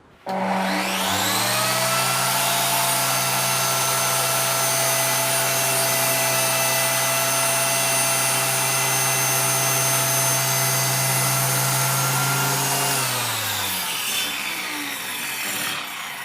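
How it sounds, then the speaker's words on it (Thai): A 9-inch circular saw with a 48-tooth blade cutting wood whines steadily at full speed for about twelve seconds, a loud continuous drone, then spins down and fades out. "อันนี้ผมจะใช้เลื่อยเจม่า9นิ้วนะครับตัด"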